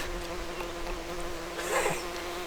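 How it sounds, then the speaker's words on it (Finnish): A bee buzzes steadily around a camera tripod on a wilderness trail in Urho Kekkonen National Park, a close, continuous drone that swells briefly louder near the end. "Nyt se mehiläinen on siinä kameran jalustassa."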